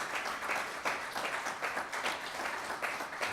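Audience at a prostate cancer disparities conference applauding, a moderate steady patter of many hands clapping in a room, continuous for the whole stretch with no talk over it.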